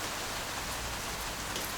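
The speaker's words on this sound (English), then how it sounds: "Rain." Steady, even hiss of rain falling on surfaces, constant and moderately faint with no distinct drops or voices standing out.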